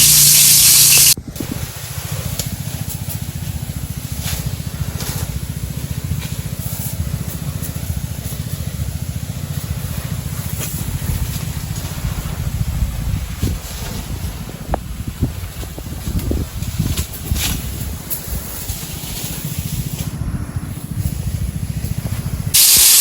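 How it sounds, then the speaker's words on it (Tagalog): A sprayer hisses steadily while applying spray to mango trees in an off-season flowering orchard, a continuous close, loud spray with wind-like rumble lasting throughout, no voices. "At yan patuloy na nag-spray ang kasamahan ko diyan."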